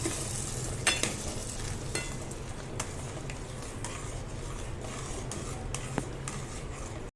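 Semolina stirred with milk in a pan for sweet sheera, a steady close scraping and sloshing with a soft sizzle throughout and a few sharper spoon knocks, no voices.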